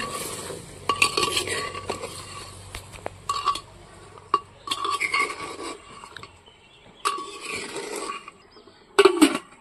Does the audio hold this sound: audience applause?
no